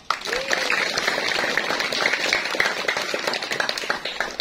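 Applause and clapping from a crowd at an Indonesian Independence Day flag ceremony, a steady dense patter that starts abruptly and holds for several seconds, with faint voices mixed in.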